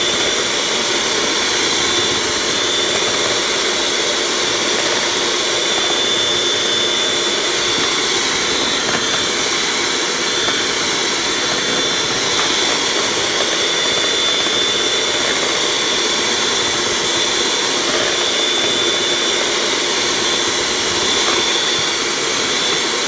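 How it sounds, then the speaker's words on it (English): An electric mixer whisks cake mixture with sugar until fluffy, giving a loud, unbroken high-pitched whirring roar that holds steady and close throughout. "And you're just gonna whisk it until it gets really fluffy."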